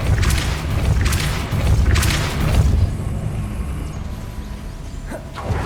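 Depulso force spell cast in Hogwarts Legacy, a series of loud booming bursts in the first few seconds followed by a lower rumbling tail.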